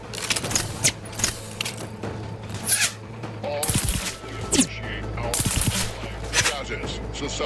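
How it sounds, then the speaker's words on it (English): Biomass pistol fire in The Outer Worlds 2, played on very hard difficulty: a run of sharp, loud energy-weapon shots and bursts over a steady low game hum, mixed with busy combat effects. "The biomass pistol."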